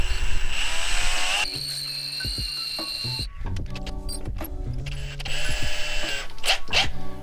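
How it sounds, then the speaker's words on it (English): A power drill whines at shifting pitch as it bites into the metal of a Mk7 Ford Transit van, close and loud, with brief pauses between runs. "let's get a drill bit out, we'll start drilling this"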